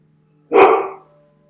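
A single loud, close dog bark, one sharp burst that fades quickly in a quiet indoor room with a low steady hum underneath.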